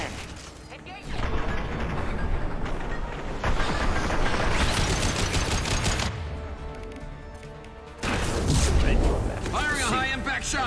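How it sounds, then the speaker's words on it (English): Rapid bursts of gunfire in the sci-fi shooter Mass Effect 2, aboard the Collector ship, loud clattering volleys broken by short pauses, with voices speaking in between and over the shooting. "Firing a high-impact shot!"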